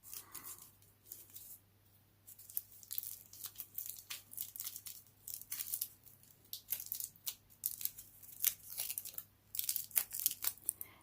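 Aluminium foil pinched and crinkled by hand for a Christmas ornament craft, a quiet, close, irregular run of crisp crackles and rustles lasting several seconds with no talk.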